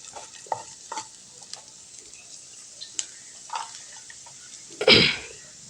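Chopped vegetables sautéed and stirred in oil for a healthy upma, with faint scattered clinks and light stirring scrapes, then a brief loud sizzling burst near the end.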